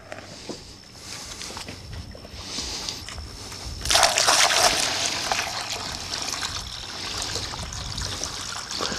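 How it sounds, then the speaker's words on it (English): Water pours through a funnel into the reservoir of a BeachGroomer irrigation pump, a steady trickle that swells into a louder, brighter gush midway before settling back to a continuous pour. "Now our next step is to fill the pump reservoir with water. I'm going to use a funnel because it makes it easier."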